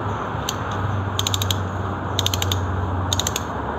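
A chrome vanadium Crossman double ring ratchet is turned by hand, producing sharp metallic clicks. A couple of single ticks come first, then three quick rattling bursts of four or five clicks each, heard close against a low steady hum.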